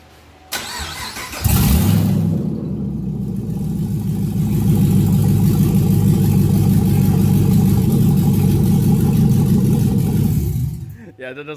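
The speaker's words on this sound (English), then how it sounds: "we're gonna see what this thing sounds like with open headers, open manifolds" A Camaro SS V8 engine with open headers cranks and roars to life loudly, then holds a harsh, rumbling rev for several seconds before cutting off abruptly.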